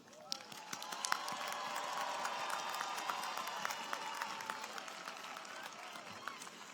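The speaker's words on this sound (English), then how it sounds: "Please join me in applauding them." Audience applauding honorees at North Carolina Central University's 129th undergraduate commencement, a steady wash of moderate, somewhat distant clapping sustained throughout with scattered sharper claps and a few faint voices mixed in.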